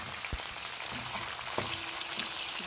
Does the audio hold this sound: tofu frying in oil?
yes